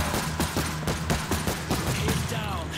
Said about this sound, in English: Machine gun set.